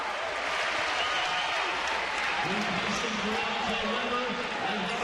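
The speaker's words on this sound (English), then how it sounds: "Gets a standing ovation from this crowd." Basketball arena crowd on senior night rising in a standing ovation, steady loud applause and cheering filling the whole stretch with no letup.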